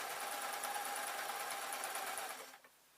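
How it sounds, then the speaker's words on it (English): A sewing machine runs steadily while stitching over the lining of a padded 3D glasses case, producing a faint, even whir that fades out after about two and a half seconds. "So I'm sewing now, just about to start going over the lining."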